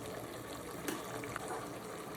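Water is poured into a pan of mutton curry, a soft, continuous splashing gush at low volume with a couple of small knocks partway through.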